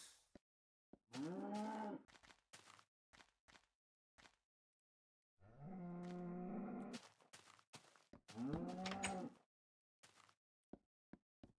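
Cows moo in a video game near a newly built barn: three long, loud, drawn-out calls separated by short gaps and scattered clicks, with no talking.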